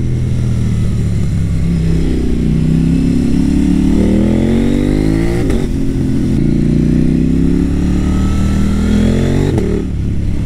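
KTM Duke 890 R motorcycle accelerating hard, its engine rising in pitch through repeated quickshifter gear changes, loud and close, with no talk.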